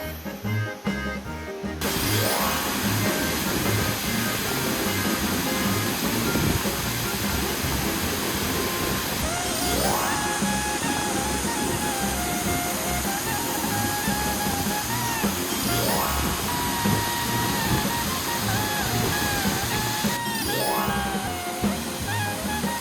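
Khlong Lan waterfall in a Thai national park thunders loudly and steadily from the innermost viewpoint, a dense continuous roar of falling water with no pauses, with a faint voice briefly heard over the rush.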